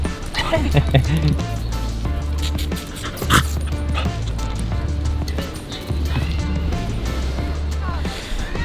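A corgi gives yips and barks amid a busy, noisy outdoor scene with steady low rumble and other animal sounds, while people talk nearby.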